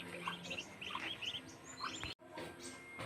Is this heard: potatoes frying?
no